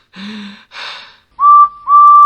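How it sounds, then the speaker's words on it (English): A steam engine's whistle, performed in a children's railway story: two short breathy gasping sounds, then two loud sustained steady whistle tones, close and alone. "We're off, whistled Edward."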